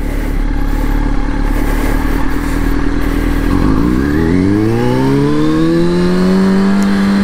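A motorcycle pulls away hard in first gear, its engine climbing steadily in pitch as it accelerates, loud and close throughout with no talk.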